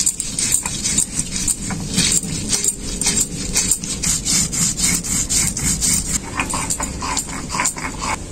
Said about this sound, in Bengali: মশলাটা আমার খুব ভালো করে বাটা হয়ে গেল